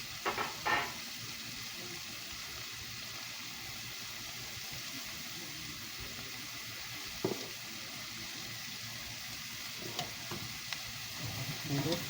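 Mushrooms and chicken sizzle steadily in oil in a pan, a low continuous fry with a few brief clatters of stirring, fairly faint and alone.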